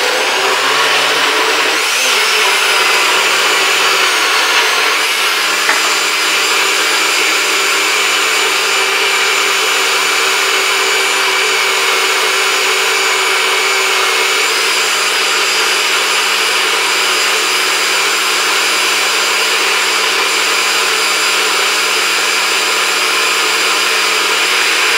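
A blender whirs continuously and loudly at close range while blending a kale smoothie, a dense steady roar holding without a break from start to finish.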